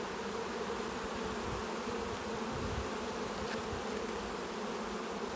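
Saskatraz honeybees buzz steadily and densely around an opened beehive during an inspection, a close, continuous drone with no voices.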